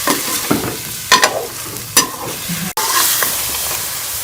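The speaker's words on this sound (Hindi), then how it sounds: "अब इसी घी के अंदर ये मैरिनेट किया हुआ चिकन मैं डाल दूंगी। अच्छी तरह से भून लेंगे घी के अंदर चिकन को।" Marinated chicken fries in ghee for a restaurant-style Mughlai chicken handi, with a steady close sizzle broken by several sharp stirring scrapes and clatters, then a brief dip before the frying hiss swells again.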